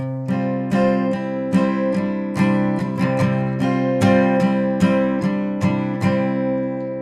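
A guitar plays a short melodic lick, with plucked notes and ringing chords, clear and close, with a loose rhythm and no talking.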